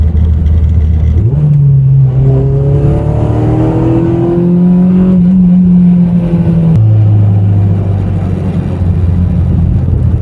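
A 2007 FA5 Honda Civic Si's K20 engine revs hard, its loud tone rising sharply, holding high, then dropping back after several seconds of sustained high-rpm wail.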